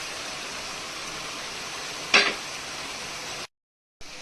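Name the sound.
cashews frying in a pan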